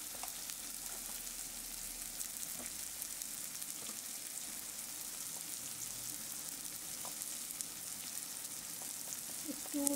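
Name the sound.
spices frying in a pan for potol dorma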